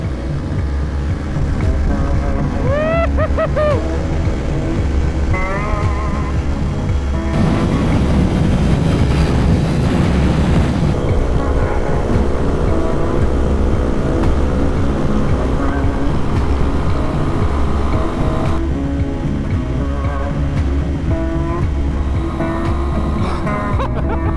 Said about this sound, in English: Dude, that TW kind of pulls. This is wide open for me.